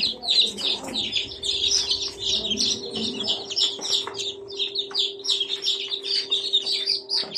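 Dense, continuous high-pitched peeping from a brood of 87 day-old chicks fills the space, many overlapping calls with a steady hum underneath.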